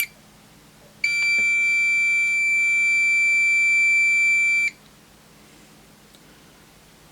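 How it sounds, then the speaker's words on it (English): A Fluke 289 multimeter's continuity beeper gives one steady high-pitched tone lasting about three and a half seconds, close and clear against a quiet room. "So beep on open. So it's inverted."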